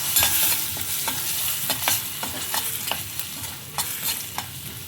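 Chana dal frying in oil with cinnamon and dried chilies, a continuous bright sizzle with regular spoon scrapes and taps against the pan, close and clear with no speech.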